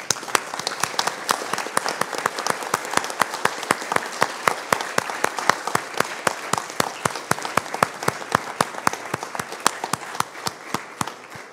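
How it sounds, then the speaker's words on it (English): Congregation at a Sunday church service applauds in a standing ovation, settling into crisp, evenly spaced rhythmic claps in unison, loud and close, repeating steadily for several seconds with little talk. "give yourselves a big round of applause as a standing ovation to yourselves and each other"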